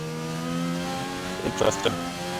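Race cars in an online sim racing game at the Austria round whine past with a steady, rising engine drone and a brief burst of revving, under a speaking voice.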